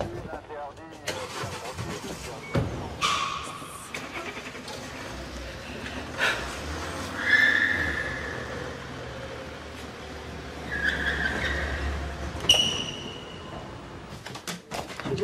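A police car engine draws near and pulls up, with a couple of brief higher squeals and some mechanical clunks. People talk over it throughout.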